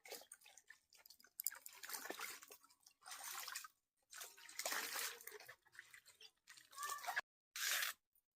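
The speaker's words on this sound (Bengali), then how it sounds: "ওই জন্য আমি ডাঁটাটা ভালো করে পুকুর থেকে ধুয়ে নিচ্ছি" Taro stalks being rinsed in a pond, with bursts of splashing, dripping and trickling water in short uneven spells separated by brief pauses, close by.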